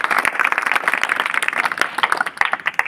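An audience at a birthday gathering claps steadily, a dense, continuous burst of many hands, fairly loud and close.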